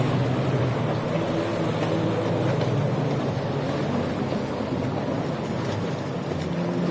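Mud boat motors race at a mudbug race in Morgan City, Louisiana, a continuous droning engine roar mixed with water and wind noise, steady and moderately loud throughout.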